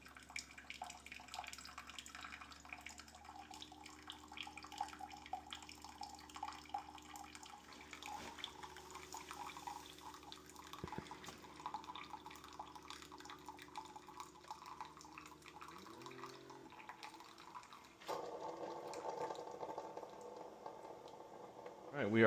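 A Keurig coffee maker, freshly descaled with citric acid, runs a 12-ounce brew cycle: a faint, steady hiss and gurgle of heating water that shifts to a louder stream of pouring liquid near the end.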